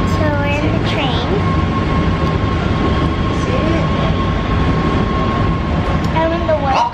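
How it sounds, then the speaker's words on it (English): Los Angeles Metro Red Line subway train riding, a steady loud rumble of wheels and car noise throughout with a faint tonal whine, heard from inside the car while people talk. "So we're in the train."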